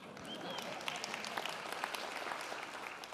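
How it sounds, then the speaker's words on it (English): An audience at a talk applauds, a faint but continuous wash of many hands clapping, heard from some distance without speech over it. "Give them a round of applause."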